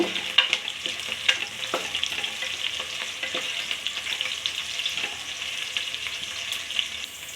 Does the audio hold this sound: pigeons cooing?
no